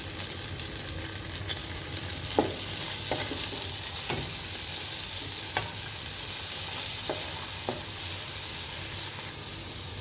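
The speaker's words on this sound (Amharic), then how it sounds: "ነጭ ሽንኩርቱ ትንሽ ቀላ እስኪል ድረስ ከዘይቱ ጋር ጥብስ እናደርገውና ማስተለዋለን።" Garlic frying in hot oil in a pan for Arabian mandi rice: a steady, close sizzle with occasional stirring scrapes and light clicks, and no talking.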